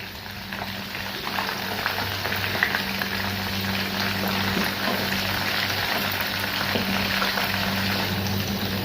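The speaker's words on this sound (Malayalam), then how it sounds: "ഒരു വശം കുക്കാകുമ്പോൾ മറിച്ചിട്ട് അതിൻ്റെ മറുവശം കൂടി നല്ല ഫ്രൈ ആക്കി എടുക്കാം." Chicken 65 frying in a pan, a steady, close, loud sizzle of hot oil that holds evenly throughout without pauses.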